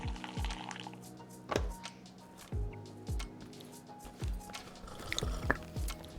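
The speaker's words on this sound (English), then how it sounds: "the coffee machine actually works, so you can get yourself a coffee in the game" Coffee machine in Ready or Not dispensing coffee: a run of wet squelching drips and gurgling thunks, each with a quick falling tone, repeating irregularly over a quiet hum.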